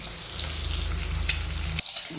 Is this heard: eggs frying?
yes